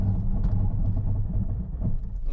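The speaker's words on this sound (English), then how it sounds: "let me accelerate to 100 and do an emergency brake stop" A 2022 Hyundai Tucson makes an emergency brake stop from speed with ABS engaged, giving a heavy low rumble of tyres and cabin noise that pulses unevenly throughout, heard from inside and with no talking.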